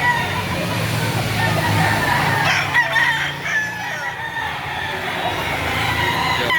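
Roosters crow loudly and steadily at a busy chicken market, with clucking and other fowl calls over a constant crowd hubbub and faint voices in the background.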